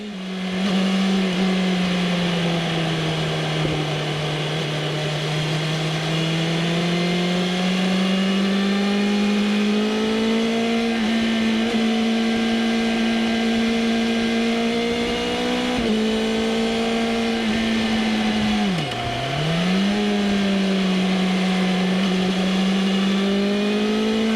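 A BMW M 1000 RR motorcycle engine revs close and loud for a long stretch, a steady high-pitched howl that rises slowly and then dips sharply once before climbing back.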